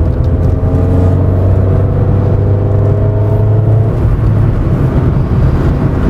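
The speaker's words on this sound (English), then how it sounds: "it takes quite a long time for the engine revs to die down when you dip the clutch for a gear change" Engine of a 1992 Rover 416SLi heard from inside during driving, a loud steady drone whose revs hold and then fall away as the clutch is dipped for a gear change, with continuous road noise and no talk.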